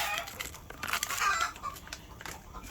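Free-roaming yard fowl in a country setting cluck in scattered, irregular bursts, fairly close and moderately loud, with crinkly bursts of noise between calls.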